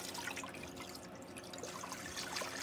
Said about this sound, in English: You're just gonna fill it with water.